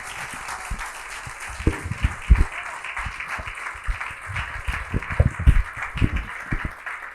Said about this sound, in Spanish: dele un aplauso si lo cree